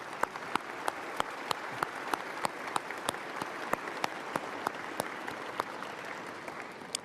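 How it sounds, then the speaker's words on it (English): Audience applauding at the opening of a new sports and recreation centre in Edmonton, sustained crowd clapping with a few sharp, distinct claps standing out near the microphone at a steady rhythm. "let's give all of them a big round of applause"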